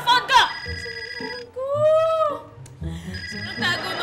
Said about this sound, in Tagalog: May tumatawag sa akin, baka importante yun.